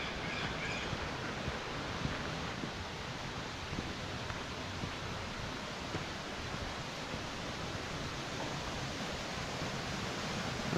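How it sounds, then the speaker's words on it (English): A creek in an Andes mountain town near Choachi, Colombia, flows with a steady, soft broadband rush of water, continuous and faint, with no voices. "there's some kind of creek flowing in here"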